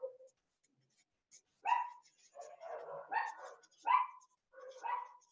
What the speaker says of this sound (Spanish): estamos con el show de los perritos, no sé si se escucha